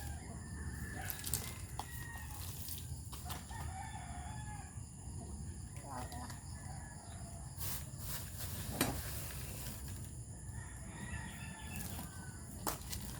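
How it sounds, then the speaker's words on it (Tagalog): Backyard pet chickens gather at feeding time, clucking and crowing with occasional wing flaps over a low steady background, moderately near and fairly faint. "Ngayon po tayo po ay magpapatuka ng ating alagang mga manok."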